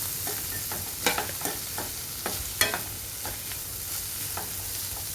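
Cluster beans frying with spices and chilli powder in a pan on a low simmer give a constant close sizzle, broken by sharp scraping clicks of a spoon stirring every second or so.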